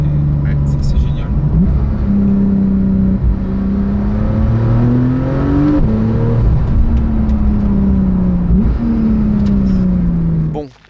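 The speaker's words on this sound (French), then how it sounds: "On entend bien le moteur." Porsche 911 991.2 GTS flat-six engine droning from inside the cabin, pitch climbing and dropping through several gear changes, steady and fairly loud, with a voice talking briefly over it before it cuts off.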